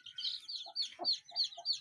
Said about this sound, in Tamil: இதில் பெரிய கோழிலாம் இப்போ தான் உள்ளே வந்தது.